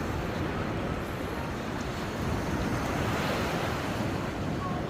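Ocean waves wash steadily onto the shore near a seaside campsite, a continuous loud surf roar mixed with wind buffeting the microphone, with no clear breaks between swells.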